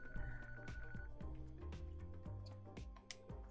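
A phone call rings in a Yakuza video game, a repeating electronic ringtone with soft ticking game sounds, clear and close, no talk.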